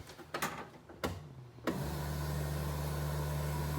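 Fuel pump priming on an all-wheel-drive Honda CRX: a few sharp clicks, then a steady electric whine-hum kicks in and holds evenly, close and moderately loud.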